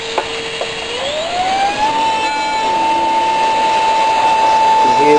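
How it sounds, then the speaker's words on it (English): A small Turnigy 1220 inrunner electric motor on a 7.4V LiPo with a 10A speed controller spins up to a loud, high, steady whine and holds there, with a faint click at the start. "And here's a little motor. Run that up and see how it goes."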